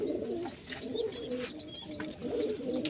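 A breeding pair of Kalsira pigeons coo steadily in repeated rolling phrases, close and clear, with a faint higher call mixed in and no voices.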